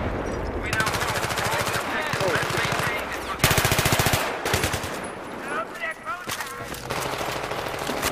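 Sustained automatic gunfire from Battlefield 3 online gameplay, loud, dense rattling bursts that stop and restart throughout, with a player talking over the shooting.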